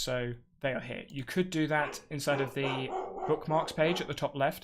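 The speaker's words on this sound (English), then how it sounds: "Apologies for the dog downstairs," A dog barks from a room downstairs in a home, a few sharp barks mixed in beneath steady close speech that runs throughout.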